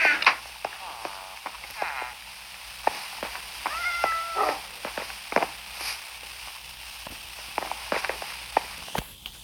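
A Minecraft cat meows a few times among light footsteps and clicks in the game, the mews short and close with quiet gaps between.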